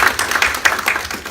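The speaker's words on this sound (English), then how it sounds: "Give him a round of applause." Audience applause at a diversity selling talk, a steady wash of many hands clapping at moderate loudness, with no voices over it.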